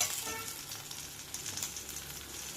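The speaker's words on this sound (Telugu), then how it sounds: "ఈ అల్లం వెల్లుల్లి పేస్ట్ కొంచెం పచ్చివాసన పోయిన దాకా వేయించుకోవాలి" Ginger garlic paste fries with onions and curry leaves in a pan, giving a faint, steady sizzle and crackle throughout.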